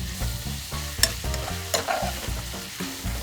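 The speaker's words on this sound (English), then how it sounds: "Then put our pork belly in and continue stirring until it looks cooked on all sides." Pork belly stir-fries in a pot with burdock for tonjiru, a close, steady sizzle punctuated by rhythmic scraping and knocking strokes of the stirring utensil.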